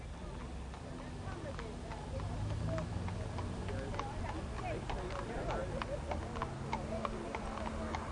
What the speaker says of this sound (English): transportation of a more leisurely kind is provided by horse and trap taxis